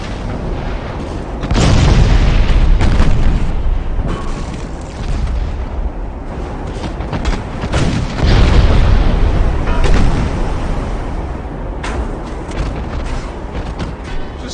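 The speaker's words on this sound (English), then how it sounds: "We fired just the front guns at that guy and killed him." Heavy warship guns fire in a naval battle video game, deep booming salvos coming in two big bursts with rumbling echoes between them, loud and with no talk over them.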